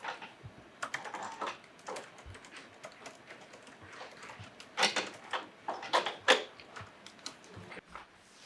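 Typing on a computer keyboard during a mockumentary film shoot, heard as quick irregular clicking keystrokes at moderate distance, with a denser burst of louder key taps toward the end and no talking.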